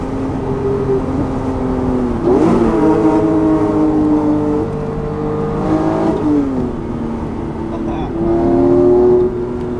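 A lightweight sports car on a mountain road revs through several gear changes, its loud engine note climbing, dropping sharply at each shift, then rising again, heard close and continuous.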